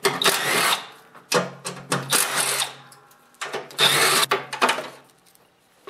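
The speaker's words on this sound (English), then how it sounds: "to remove these bolts here today, I'm using my quarter inch impact with a 3/8 socket" A quarter-inch impact driver with a 3/8 socket spins bolts off a snowblower's belly pan, heard as three loud bursts of buzzing, rattling hammering separated by short pauses.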